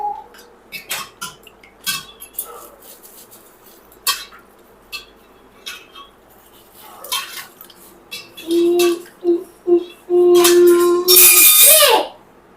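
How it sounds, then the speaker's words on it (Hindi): A utensil clinks and scrapes against a pan while baingan bharta is mixed, in irregular clatters and taps, followed by a few longer sizzling or scraping passes near the end. "मिक्सिंग करेंगे इसमें।"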